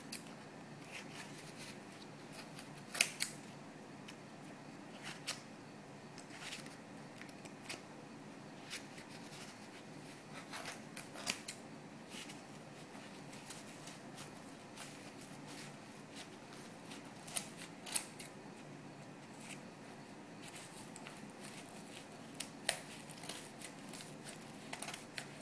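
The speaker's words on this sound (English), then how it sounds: "Just stick your scissors in there and go ahead and cut around, cutting all the strands of yarn you wrapped around your cardboard." Scissors snipping through strands of yarn wrapped around cardboard to form a pom-pom, faint scattered crisp cuts and rustles at irregular intervals against a quiet room background.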